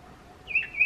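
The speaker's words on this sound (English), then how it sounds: "and the bird started chirping." At night a bird gives two short, fairly faint chirps close together, late in a quiet stretch.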